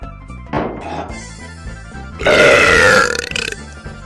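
A long, loud, close burp after drinking cola in a sibling burping contest, rising into a sustained rumbling belch for over a second, preceded by softer knocks and shuffling.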